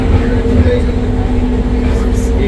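Loud, steady rumble and hum of an airport people-mover train running at O'Hare International Airport toward Terminal 5, heard from inside the moving car with faint speech.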